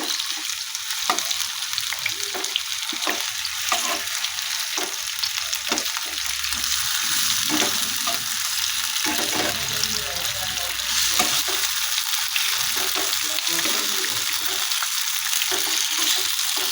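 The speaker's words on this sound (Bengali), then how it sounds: "তো দেখো এই পিঠটাও ভাজা হয়ে গেছে।" Chicken fries in a pan on its second side, a loud continuous sizzle up close with intermittent stirring and scraping taps; nobody speaks.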